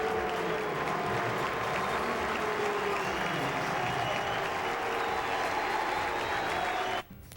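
Scattered applause from an Atlanta baseball crowd greeting former Braves pitcher Tom Glavine, a steady, broad wash of clapping and crowd noise that holds for several seconds before cutting off abruptly near the end.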